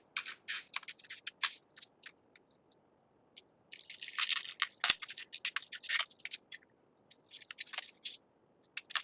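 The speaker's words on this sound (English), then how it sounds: "you can go and finish cutting out the rest of your piece." Scissors cut out a fabric pattern piece for a dart-manipulation sewing exercise, giving close, crisp snipping and crunching bursts separated by quiet pauses.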